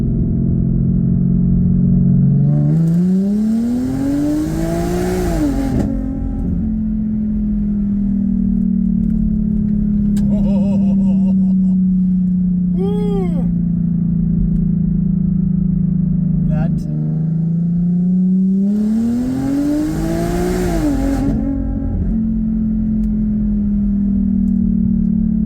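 An Audi A6 fitted with a VastAZ 85mm throttle body pulls hard in third gear, the engine note sweeping up through the revs, holding a steady drone, then rising again in a second surge, loud and close from inside the car.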